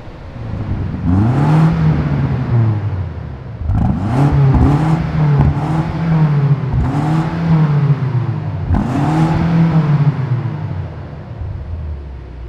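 A BMW M5 CS engine revving loudly nearby in several rising and falling bursts, a deep throaty rumble climbing in pitch and dropping back to idle between pulls.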